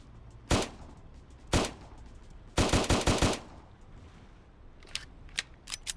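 Updated gunfire from BloxStrike weapons such as the SG, dualies and 5.7 in a video game: two sharp single shots, then a rapid automatic burst, followed by a few fainter scattered shots against quiet background noise.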